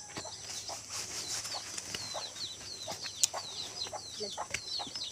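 A chicken with its chicks in a mountain yard gives soft, repeated clucks against a faint outdoor background.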